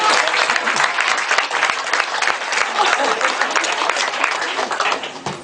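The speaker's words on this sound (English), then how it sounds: "So a round of applause for them." Audience applause at a book event, a continuous loud wash of many clapping hands filling the room, with faint voices beneath.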